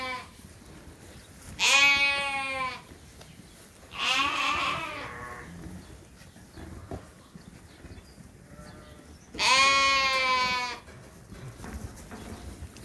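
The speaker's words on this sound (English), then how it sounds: "It looks like we've got some sheep outside today. The Suffolk lambs." Suffolk lambs bleat outdoors, giving three separate wavering cries spread across several seconds, fairly close, with quiet ambience between them.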